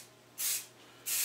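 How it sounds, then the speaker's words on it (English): Two short bursts of hissing spray from an aerosol can applying a light finish coat onto wood, each about a quarter second long, close and fairly loud over a faint background hum. "So I'm going to spray them light coat first"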